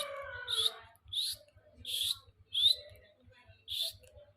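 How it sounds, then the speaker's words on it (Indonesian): A caged pleci white-eye hanging in front of a house gives about five short, bright chirps at a steady pace, fairly faint and alone against a quiet background with a soft low rhythmic pulse. "nah ini burungnya udah aku cantelin ya di depan rumah biar tenang nih"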